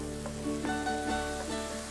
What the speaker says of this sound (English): The only thing that you have to do is to wait for a little sizzle of oil around the garlic.